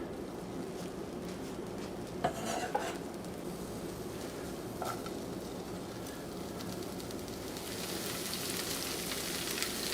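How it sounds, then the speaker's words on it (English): Corned beef sautéing in a hot pan, a steady close crackling sizzle that continues without a break, with a few soft clinks from stirring and a slightly brighter hiss near the end. "And add the corned beef."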